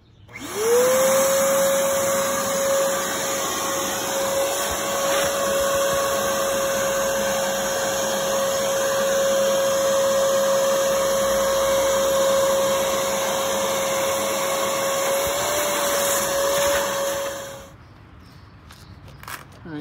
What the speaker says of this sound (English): Next, we vacuum up all the dust and we clean out the holes with the brush.